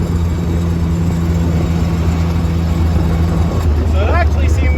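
An old Jeep's four-cylinder flathead engine idles steadily with a low, even rumble, loud and close, while a person talks over it.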